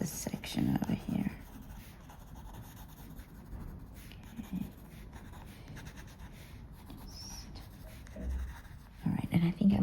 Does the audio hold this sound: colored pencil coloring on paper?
yes